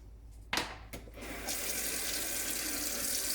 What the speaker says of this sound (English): What's the stream of water look like when you're going to use it in your, to water your tray?